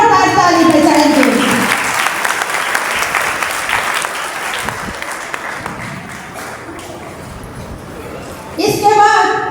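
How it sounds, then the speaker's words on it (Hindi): Loud sustained applause from a church congregation praising God, a dense roar of clapping that tapers slightly before a preacher's voice returns at the start and end. "हम अपने जिंदा खुदा के लिए जोरदार ताली बजाएंगे।"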